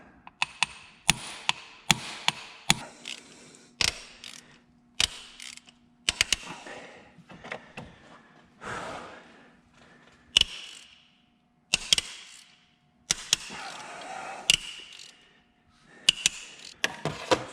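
Rusty spark plugs being worked out of a van engine with a ratchet: a long run of sharp mechanical clicks and clanks, irregular and close, with scraping metal between bursts and no talking.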